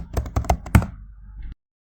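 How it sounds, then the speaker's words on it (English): A quick run of crisp keystrokes on a computer keyboard is close and clear, then stops abruptly into silence, with no talking. "In the search bar, I'm going to type Bootstrap."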